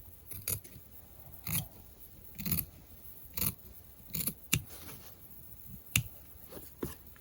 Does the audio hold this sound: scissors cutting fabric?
yes